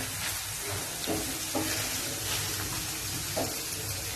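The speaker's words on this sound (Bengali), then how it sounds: "ফুলকপি আলু এগুলো সমস্ত একটু ভাজা হয়ে যাক।" Cauliflower, potatoes and mixed vegetables fry in a pan, giving a steady broadband sizzle with a few soft scraping stirs, close and continuous, with no voices.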